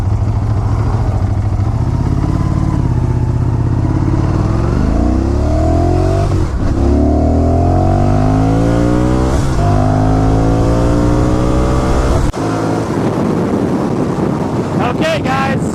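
A 2016 Motus MSTR with a 180 HP V4 engine accelerates hard onto a highway, its loud engine note rising steadily through several gear changes under heavy wind rush at the microphone.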